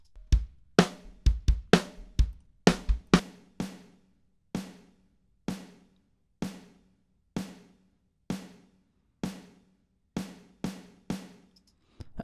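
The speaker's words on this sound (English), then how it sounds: "There's a couple of electronic samples blended with a real acoustic snare drum." Snare drum hits, electronic samples blended with a real acoustic snare, repeat alone, first in a quick cluster and then at a slow, steady pace, each crack trailing into a long reverberant tail.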